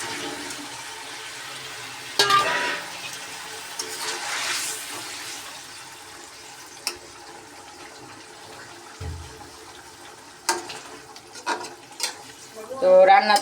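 Fried snakehead fish is slipped into a bubbling fish curry and stirred in a pan. Soft sizzling runs throughout, with a few sharper clatters and scrapes near the end and no speech.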